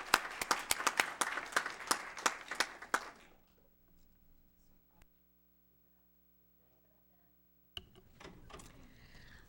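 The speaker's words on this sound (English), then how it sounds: "Let's give them a round of applause." A board meeting audience applauding graduating scholars, a brief burst of scattered clapping that fades within about three seconds into a quiet room hum.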